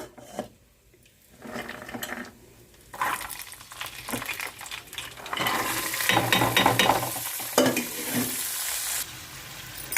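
Onion, green chilli, peas, capsicum and carrot stir-fried in a pan, with bursts of sizzling and scraping spatula strokes that grow louder and denser toward the end, heard alone without talk.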